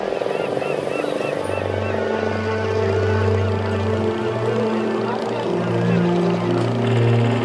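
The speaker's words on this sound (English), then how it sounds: "the noise from the diesel engines is horrendous" Diesel engines of tourist boats on Chilika Lake drone steadily and loudly throughout, with a low sustained hum and shifting engine tones layered over broadband churning noise.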